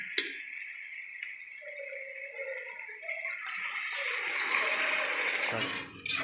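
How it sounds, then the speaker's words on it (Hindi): One liter of water poured into a pot of roasted black chickpeas, a steady close splashing pour that builds and runs for several seconds without talk. "अब मैं इसके अंदर डालने लगी हूँ 1 लीटर पानी।"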